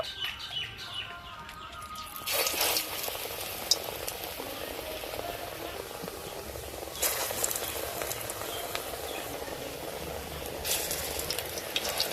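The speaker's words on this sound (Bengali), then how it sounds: "একই রকম ভাবে আমি বাকি বড়াগুলোও ভেজে নেব।" Thankuni leaf fritters fry in hot oil with a continuous bubbling sizzle. The sizzle surges louder in several bursts as batches go into the pan, with faint bird chirps in the background.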